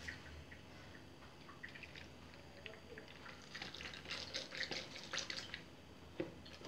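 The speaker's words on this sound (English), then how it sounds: "now guys, I'm going to pour some chocolate milk inside" Chocolate milk pours into a blender in a kitchen, a soft, close liquid splashing and trickling that builds gradually, with faint dripping and a light clunk at the end.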